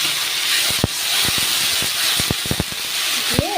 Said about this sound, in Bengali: এবার লাল শাক বাটাটা দিয়ে দেবো।